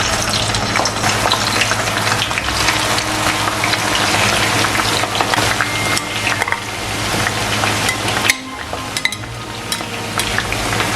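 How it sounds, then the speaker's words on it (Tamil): Okra pieces frying in boiling oil in a pan, a loud, dense sizzle that crackles continuously with brief stirring and a short dip before the bubbling resumes. "ஸோ இப்போ நான் வந்து மிக்ஸ் பண்ணி வச்சிருக்கிற இந்த வெண்டைக்காயை பொரிச்சு எடுப்போம்."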